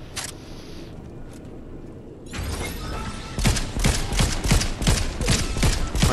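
Gunfire in Fortnite Zero Build: after a quiet stretch, a rapid string of close, sharp shots rattles off over the final few seconds, with mechanical clicks mixed in.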